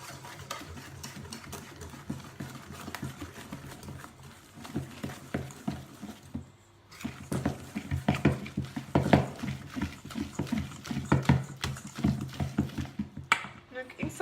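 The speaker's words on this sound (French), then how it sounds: "Avec la farine, vous remuez bien." Flour being stirred into a salmon cake batter, soft irregular scraping and patting strokes under a spoken voice, with a brief pause midway before the stirring resumes more briskly.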